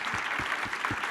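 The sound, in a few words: audience applause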